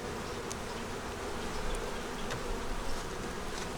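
Honey bees buzz around an opened hive in cold weather, a dense, continuous swarm drone close by with occasional louder passes and no talking.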